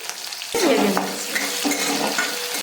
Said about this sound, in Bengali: এবার এর মধ্যে বিনসগুলো দিয়ে দিচ্ছে দিয়ে একটু নুন দিয়ে দিচ্ছি